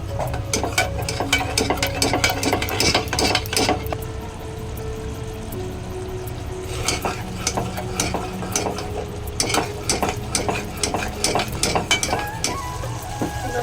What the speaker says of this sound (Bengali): এরপরে দই আর মশলার পেস্টটা দিয়ে ভালো করে কষবো।